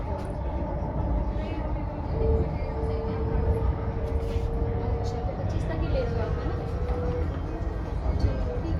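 A Delhi Metro train at Central Secretariat station gives a steady, fairly loud rumble with a thin whining tone rising and fading across the middle, while indistinct voices murmur in the background.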